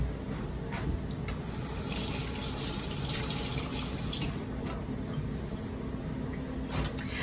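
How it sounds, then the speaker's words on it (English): Tap water runs steadily over raw pork ribs in a kitchen sink, a soft continuous rushing splash with faint shifts as the meat is turned under the stream. "Now I will rinse my ribs and then pat them dry"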